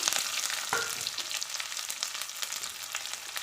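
Crushed garlic and shallots with a large onion hitting hot oil where mustard seeds have just popped, cooking for a dal-and-vegetable sambar: a steady close crackling sizzle with a few sharper pops and spatters.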